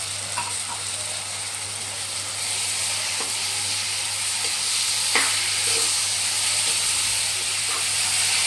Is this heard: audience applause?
no